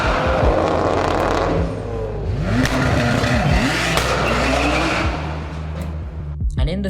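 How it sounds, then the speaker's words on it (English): A Nissan Skyline R34 GTR with an RB26 engine revs hard and loud, its pitch rising and falling in swooping sweeps, with tire squeal and a raspy, racing-style roar throughout. "the Beetle doesn't sound anything like an RB26. And the RB26 sounds so good,"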